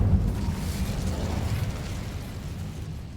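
The Incendio fire spell is cast in the Hogwarts Legacy video game, giving a short, low, rumbling burst that fades over a few seconds.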